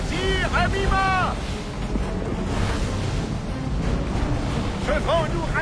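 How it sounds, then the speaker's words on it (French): Ocean wind and surf around a sailing ship at sea in Assassin's Creed 3, a steady broadband rush and wash throughout, with shouted crew voices breaking in near the start and again near the end. "Ce vent nous ralentit!"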